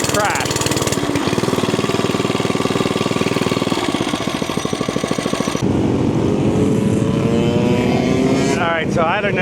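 Motorcycle engine chugging steadily at low revs, a close, even, tractor-like thumping pulse with some mechanical clatter, loud throughout, at the Mid-Ohio swap meet camping area.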